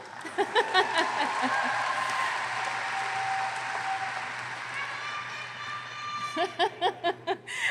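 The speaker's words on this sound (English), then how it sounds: "Yes, you can applaud." Applause from a commencement crowd at Thomas Edison State University's 2019 ceremony, a dense sustained wash of clapping that swells and fades, with a voice speaking over the start and again near the end.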